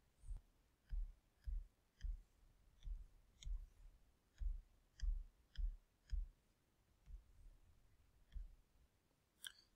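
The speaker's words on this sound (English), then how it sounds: "we can just type this into the calculator" Calculator keys pressed while typing in a calculation, a series of about fifteen soft, close plastic clicks in an uneven tapping rhythm, quiet in an otherwise still room.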